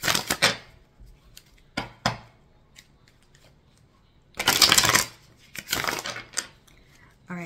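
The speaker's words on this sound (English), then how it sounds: "let me go ahead and shuffle" Tarot cards riffle and slap together in short bursts, with a longer shuffle near the end and quiet gaps between.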